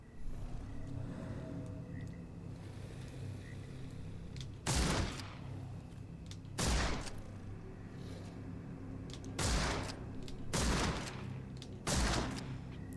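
Rifle shots fired at an alligator in the Sherlock Holmes video game, five loud sharp bangs spaced irregularly over a steady low ambient rumble, with no talk.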